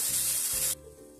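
Garlic, ginger and green chili paste drops into a pan with white sesame seeds and curry leaves, giving a loud, close sizzling hiss that cuts off abruptly after under a second, leaving quiet background.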